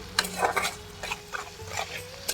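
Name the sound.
onions frying and being stirred in a pan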